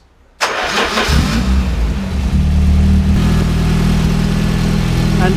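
A car engine with twin fuel pumps and a swirl tank cranks abruptly from silence and fires straight into a loud, close idle, holding a steady running hum without any talk.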